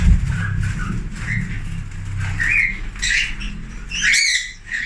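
Lovebirds squawk in a flight pen of an aviary, sharp bursts repeating close by over a steady low rumble of background noise.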